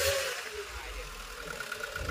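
A Toyota Dyna 130HT diesel engine with a low-power fault is revved, a rough close rumble that rises and eases, with a voice talking over it.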